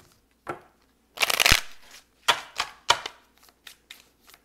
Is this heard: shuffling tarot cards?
yes